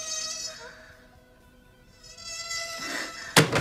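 A thin, whining insect-like buzz, resembling a mosquito, drones over a phone line in a horror film remake, fading down mid-clip, then swelling again before a sharp burst of noise at the end.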